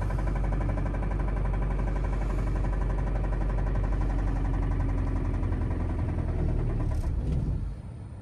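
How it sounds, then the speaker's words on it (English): Close, steady idle of a 2.4 liter Dodge Caliber engine with a heavy, rapid knock tapping through the rumble, running evenly until it stumbles and dies near the end. "We have an engine that is knocking really bad."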